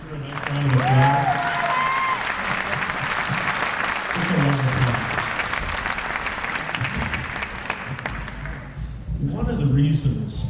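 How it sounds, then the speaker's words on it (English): An audience at the Stillwater Area High School Kaleidoscope Concert claps for a rooster in a long, steady wash of applause, with voices breaking through at the start, midway and again at the end. "So can you give our rooster a nice round of applause?"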